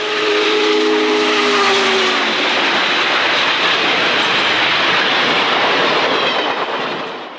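Union Pacific 3985 steam locomotive running eastbound: a loud, continuous roar of steam and rail noise fills the clip, with a short steam whistle blast at the very start, and no voices.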